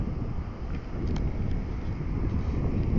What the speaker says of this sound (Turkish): Dediğim gibi biraz rüzgar var.